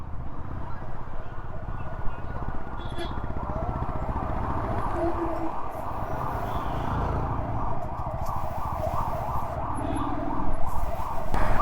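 An ambulance siren wails loudly and continuously through stalled traffic on a narrow hill road near Darjeeling, its cycling tone steady throughout with faint road noise beneath.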